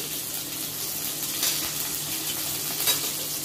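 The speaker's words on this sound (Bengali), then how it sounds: "রসুন কুচি একটু ফ্রাই হয়ে নেবে" Chopped chili and garlic frying in hot oil in a wok for chilli paneer, a loud continuous hiss and sizzle with a couple of brief stirring swells.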